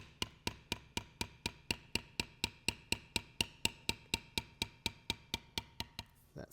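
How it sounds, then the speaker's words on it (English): A leather bevel tool is struck with a mallet while tooling a belt, working the inside of a curve, giving a steady, evenly spaced series of about twenty-five sharp, close taps, with no talk. "I can work that bevel all the way around there on the inside"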